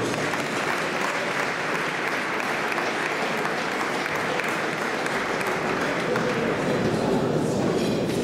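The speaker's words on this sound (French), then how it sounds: "On peut les applaudir s'il vous plaît." Guests at an annual awards dinner clap steadily and loudly for several seconds, a thick, unbroken roll of applause filling the room.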